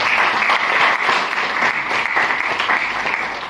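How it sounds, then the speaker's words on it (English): An audience at a live business talk breaks into a loud, steady round of applause, dense clapping filling the space evenly from start to finish. "I think a round of applause"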